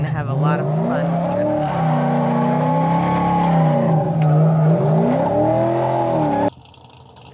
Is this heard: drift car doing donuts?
yes